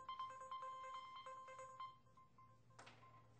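Phone ringtone going off during a church sermon, a repeated electronic melody pulsing for about two seconds before cutting off, followed by a brief rustle, in a quiet room.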